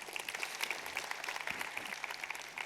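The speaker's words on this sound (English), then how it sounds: "round of applause for that" Audience applause during a live seminar event, a steady, moderately faint patter of many hands clapping that continues through the whole stretch without a break.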